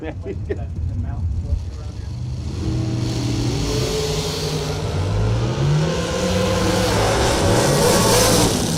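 Drag racing car reversing quickly after a burnout at a strip: a steady mid-pitched engine drone that builds and shifts pitch over several seconds, heard under an announcer's commentary.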